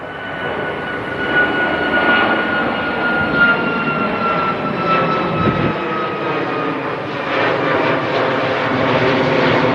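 A fixed-wing airplane passes overhead, its steady engine drone rising and falling in loudness through the whole stretch, with no other sounds over it.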